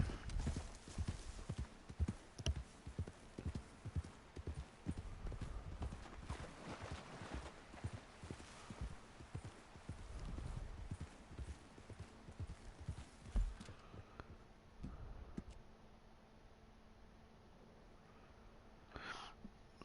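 Horse hooves clip-clopping in the Red Dead Online video game, a steady rhythmic run of hoofbeats near and moderately loud, thinning out toward the end with a faint whinny possible.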